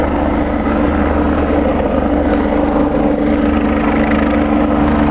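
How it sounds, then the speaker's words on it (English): A helicopter flies close overhead, a loud, continuous engine drone with a steady low rotor thrum that holds without a break throughout. "I have to walk with the helicopter."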